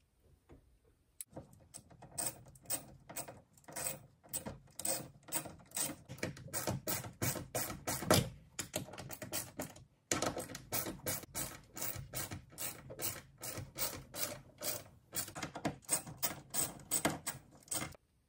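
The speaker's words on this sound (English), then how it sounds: "I like to use a 10mm socket and ratchet" Ratchet with a 10mm socket driving lag screws into a wall to fix a TV mount, a steady run of rapid clicking strokes with brief pauses between bursts, close and fairly quiet, with no talking.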